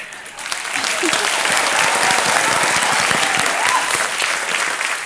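Sustained applause from a studio audience on the set of the Indian quiz show Kaun Banega Crorepati, dense and steady clapping that rises quickly and holds loud throughout.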